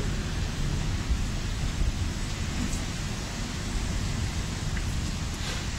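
Steady rain drums on a roof that rings with a thin, metal-like tone during a lightning storm, a dense continuous hiss with deep rumbling underneath and no voices.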